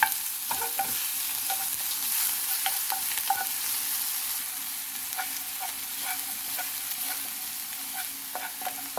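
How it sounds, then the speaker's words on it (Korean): Minced garlic sizzles in oil in a small frying pan, a steady crackling hiss with soft scraping stirs ticking through it at an irregular pace, close and moderately loud. "이제 여기에 마늘 한 큰술을 넣어주겠습니다"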